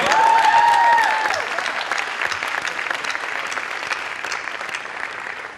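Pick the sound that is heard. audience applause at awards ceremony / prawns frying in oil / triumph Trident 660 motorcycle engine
audience applause at awards ceremony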